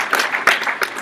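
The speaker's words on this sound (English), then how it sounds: "I think these guys need a round of applause" Conference audience applauding at an international HIV research meeting, a short burst of scattered hand claps in a large room, moderately loud and lasting about a second.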